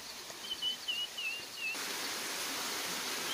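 A large waterfall in Meghalaya rushes far below a viewpoint, its steady broadband roar swelling in partway through after a few clear bird chirps at the start.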